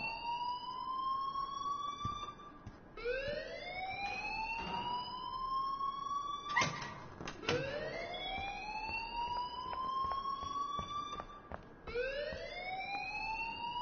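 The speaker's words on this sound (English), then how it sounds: "please turn off that alarm since that's your job" Loud, repeating electronic alarm from the video game Life is Strange, rising whooping sweeps that cycle every couple of seconds, with a few sharp clicks and thuds mixed in, no voices.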